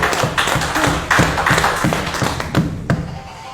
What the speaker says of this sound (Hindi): तालियों से इस्तकबाल किया जाए।